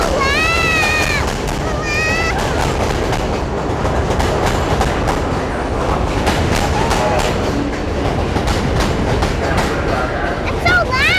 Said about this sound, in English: See guys, the train's coming! Let's wait for the train.